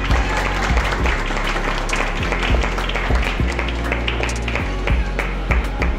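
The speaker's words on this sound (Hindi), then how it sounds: "बिग राउंड ऑफ अप्लॉज तालियां।" Applause from an audience at an Independence Day celebration with blind school children, a dense, loud patter of clapping running throughout with a few sharper taps and low thumps.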